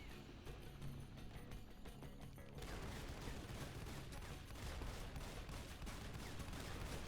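Dense gunfire from the real-time strategy game C&C Generals Rise of the Reds, with continuous overlapping bursts and rattling shots that thicken midway and carry on loudly without talking.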